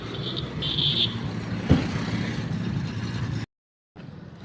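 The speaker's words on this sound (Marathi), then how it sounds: "चालली आमची एक गाडी" Car pulling away on a street in Darwha during a Durga festival, a steady engine rumble with a brief knock partway through, fairly close, then a short cut to silence before the traffic noise resumes.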